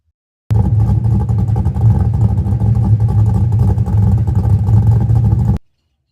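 A custom car exhaust with cheap bullet mufflers right behind the X pipe idles loud and close, a throaty, burbling rumble lasting about five seconds before it cuts out abruptly.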